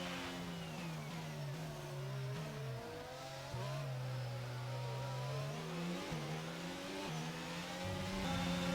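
Race car engines in the F1 22 video game wail together at a green flag start, a steady, layered high-pitched drone with rising and falling revs, continuous and loud with no talk.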